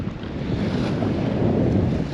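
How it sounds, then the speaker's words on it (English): Breezy-day wind buffets the microphone in a constant, loud low roar with gusting texture, heard alone without any voices. "As you can see, very breezy."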